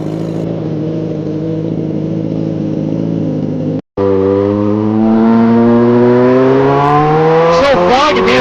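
A 200+ HP superbike engine idles while warming up, a loud, steady drone heard up close, with a brief cut partway through and the pitch then rising slightly as the revs climb, and no talk.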